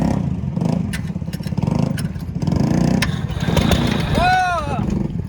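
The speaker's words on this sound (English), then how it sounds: "Tractor. Let's hook it up. Oh, dude. Let's see if it cranks." An old tractor engine cranks with a loud, rhythmic chugging, then catches and starts running, with excited voices shouting over the machine.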